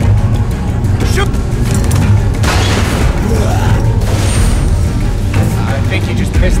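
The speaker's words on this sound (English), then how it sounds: "Keep shooting, Vince!" Gunshots in The Walking Dead video game, several booming shots ring out over a constant noisy backdrop, with voices heard in between.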